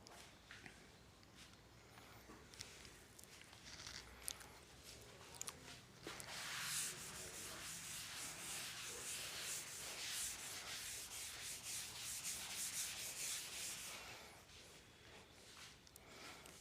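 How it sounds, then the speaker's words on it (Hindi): A board is rubbed clean during a physics lecture on units and measurement, steady scrubbing strokes that swell louder in the middle and fade toward the end, with no talking. "मैं रब कर रहा हूँ।"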